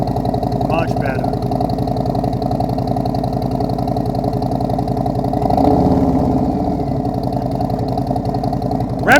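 A 2023 Harley-Davidson Street Glide Special with Tab Performance exhaust runs loud and close in a steady low idle, with one fuller rev swelling in the middle; people talk over the engine throughout.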